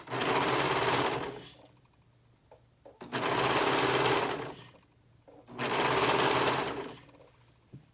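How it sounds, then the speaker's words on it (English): A sewing machine stitches two layers of shirt fabric in three loud, close bursts of rapid whirring, each about a second and a half long, with short quiet pauses between them. "we're going to sew these 2 layers together"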